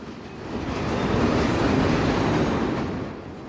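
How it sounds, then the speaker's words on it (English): A freight train rolls past hauling boxcars and cylinder-shaped tank cars for liquids, a steady broad rumble that swells, holds for a few seconds and then eases off, with no voices. "this freight train is pulling tank cars"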